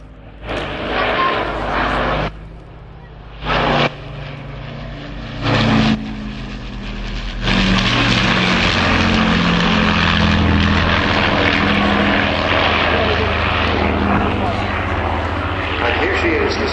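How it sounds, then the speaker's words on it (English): A Spitfire Mark 19 propeller fighter flying at the Cosford airshow, its engine roar rising and cutting out in bursts before building to a loud sustained drone, with a commentator talking over it. "And here she is, the Spitfire Mark 19"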